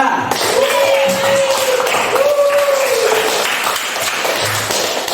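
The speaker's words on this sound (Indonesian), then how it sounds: "Tepuk tangan." Students in a classroom applaud with a steady wash of clapping throughout, while a voice talks over it with a sustained tonal sound rising above the noise.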